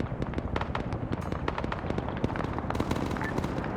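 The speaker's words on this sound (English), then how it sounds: "explosion just went off" Dense burst of blasts and cracking gunfire in a military shooter game, a steady loud barrage of rapid impacts over several seconds with no pause.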